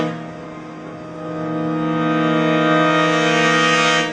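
Roland ARX03 expansion board brass section holds a sustained chord that swells slowly from moderate to loud, rich and brassy with no talking over it.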